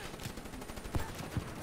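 Two sharp, low-heavy gunshots crack out about half a second apart over steady game ambience in Call of Duty: Black Ops 3 multiplayer, a sniper rifle being fired.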